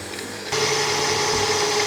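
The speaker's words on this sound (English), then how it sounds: "I'm using a paddle attachment to beat this together." Stand mixer with a paddle attachment creaming butter and granulated sugar for a sour cream coffee cake: the motor starts abruptly and runs as a steady whirring drone, close and alone, then stops.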